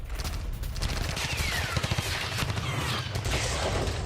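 A soldier fires a machine gun at a drone on a Ukraine battlefield. A rapid burst of loud shots rattles out amid continuous harsh outdoor noise and wind, with further sharp reports nearby.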